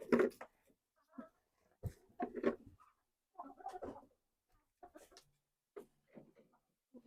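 Chickens cluck in short, irregular bursts during an egg-collecting round at the coop, a few soft calls spaced apart with quiet gaps between.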